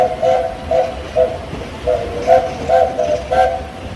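The train Douglas crossing a viaduct, with a loud, pulsing tonal whistle-like note repeating over a rumbling rail background, heard fairly close.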